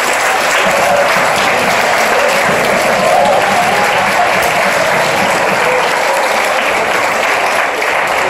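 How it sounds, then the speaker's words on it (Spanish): Dense, loud audience applause for students who won third place in a space competition with a CanSat project, continuous even clapping for about eight seconds with little talk beneath. "Denles un aplauso, se lo merecen."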